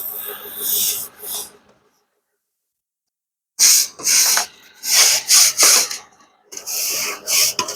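Bursts of broadband brush scrubbing inside a chimney during a clean-out, harsh rasping strokes in rhythmic clusters, loud and close, broken by a two-second pause; no talk.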